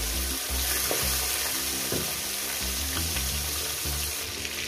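Catla fish heads frying in hot oil in a pan, a steady close sizzle with occasional stirring and pan clinks throughout, no talking.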